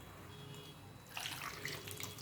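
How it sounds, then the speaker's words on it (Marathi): Lemons are washed in water, a quiet lead-in giving way to a burst of running, splashing water for the last second or so, close and alone. "आता हे सुरुवातीला स्वच्छ धुवून घ्यायचे आहेत"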